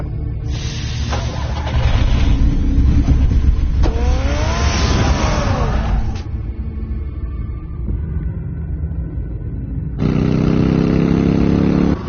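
A car engine in a Batman video game revs up loudly with a rising whine, then settles to a steady lower drone before surging again near the end, with no voices.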